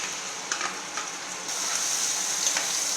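Tomato and onion paste sizzling in a pan for egg kulambu, a steady bright hiss with occasional stirring scrapes and crackles, close and continuous, growing slightly louder partway through.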